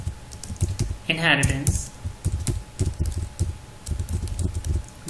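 Close clacking keystrokes on a computer keyboard as a Java project name is entered, an uneven patter of taps running under a voice speaking briefly.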